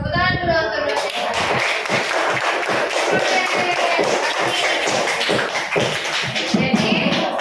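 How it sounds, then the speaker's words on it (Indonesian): A classroom group claps for the lecturer during a supervised teaching session, a loose burst of sharp, fairly close hand claps with some taps and thuds, running steadily after a brief moment of speech at the start. "Oke, tepuk tangan dulu untuk dosen."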